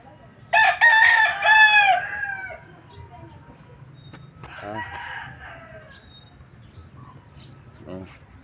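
A rooster gives a long, loud crow, then softer crowing and clucks from chickens follow, with a faint low murmur in the background.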